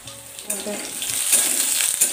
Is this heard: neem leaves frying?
yes